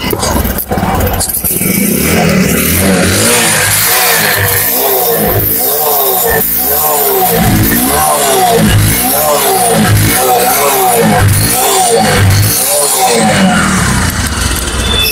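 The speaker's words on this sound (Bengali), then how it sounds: "এখন আমরা গাড়িটার সাউন্ড কোয়ালিটি দেখাবো" A Bajaj Discover 125 cc motorcycle engine running close by, loud and continuous, with a regular pulsing throb that swells and eases in repeated rev cycles and no talk over it.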